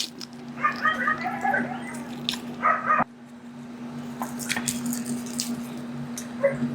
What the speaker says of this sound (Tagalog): pasensya na sa mga aso guys na naririnig niyo yung mga asong ingay